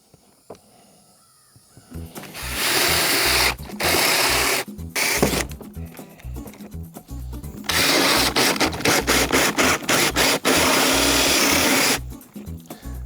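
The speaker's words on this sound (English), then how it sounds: "we're gonna go ahead and get those pre-drilled" A power drill whirs in repeated loud bursts, starting and stopping as it bores pilot holes into stained wood for a desk, with short pauses between runs.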